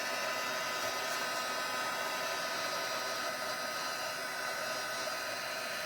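A heat embossing tool blows a steady, even hiss of hot air over cardstock, constant and close without pauses, with no talking.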